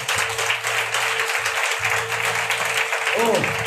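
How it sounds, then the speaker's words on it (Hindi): A church congregation claps under loud music and a voice, the applause a steady wash beneath a sustained tone and speech. "एक ताली बजाकर प्रभु को धन्यवाद दें।"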